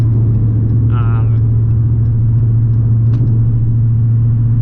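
A cammed 5.7L Hemi in a 2017 Dodge Challenger T/A idles with a loud, steady, lopey rumble close by, and a person speaks briefly over it.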